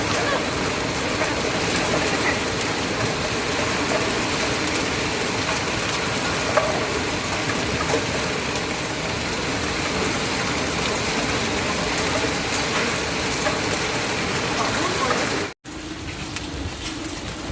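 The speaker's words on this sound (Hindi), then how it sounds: "ये देख लो बे कितने ओले पड़ रहे हैं" Hail falling in a village, a dense continuous patter and hiss of many hailstones striking surfaces, steady and fairly loud, with a brief cut near the end before it resumes.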